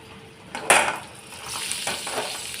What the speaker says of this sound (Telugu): ఈ ఆయిల్లో మనం ఇప్పుడు ఈ కట్ చేసి పెట్టుకున్న క్యాప్సికమ్ ముక్కలు